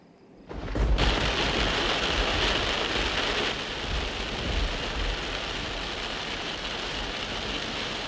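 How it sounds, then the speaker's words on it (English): Heavy rain pours down in a dense, steady roar that starts abruptly and stays loud and close throughout, with no voices. "The rain was coming down so ridiculously hard that we could barely see the front of our car"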